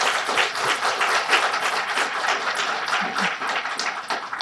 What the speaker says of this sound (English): Please give our amazing panelists a round of applause.